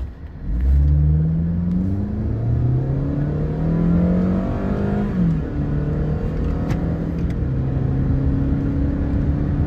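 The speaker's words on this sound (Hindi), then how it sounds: "थोड़ा इसका एक बार अच्छे से पिकअप लेके देखते हैं।" A Hyundai Sonata accelerates hard on a pickup test, its engine note climbing loudly and close through several rising sweeps as it shifts gears, then holding a steady drone.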